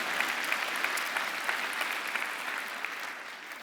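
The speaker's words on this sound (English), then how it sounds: "And if you're not going to clap for that, I am" Church congregation bursts into applause, a steady, moderately loud wash of many hands clapping throughout, with a few sharper claps standing out and no talk over it.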